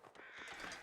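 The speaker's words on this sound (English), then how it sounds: "There's a lot of crows crowing at the moment." Crows in the wilderness survival game The Long Dark give a short, harsh caw, faint and distant, lasting under a second.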